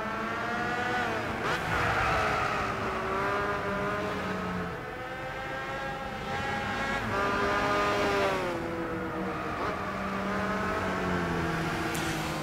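An LMP prototype race car corners at Spa in Gran Turismo 6, its engine note rising and falling through gear changes as it brakes and accelerates, loud and continuous with no voices.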